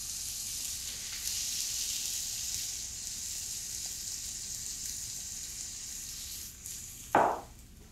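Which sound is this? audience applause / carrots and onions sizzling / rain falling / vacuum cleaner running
carrots and onions sizzling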